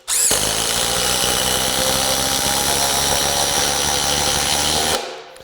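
A DEWALT DCF845 impact driver runs steadily at speed level 3, a loud, continuous high-pitched whirring hammer drone lasting about five seconds before cutting off abruptly.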